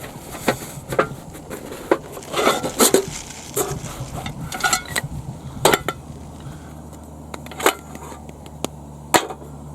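A frying pan and other cookware handled outdoors on a beach, scattered clanks, scrapes and sharp knocks at irregular intervals over a steady background wash, close and moderately loud.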